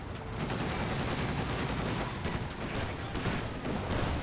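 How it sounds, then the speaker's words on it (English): Dense, continuous gunfire and explosions from a Company of Heroes 2 battle with an anti-tank gun firing amid the barrage, loud and sustained with rapid overlapping shots. "AT gun shot onto the AT gun"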